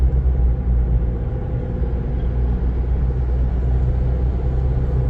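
A Chevy Colorado ZR2 Bison pickup on big off-road tires drives along a road with a steady, loud, close low rumble of engine and road noise that holds evenly throughout, with no talking.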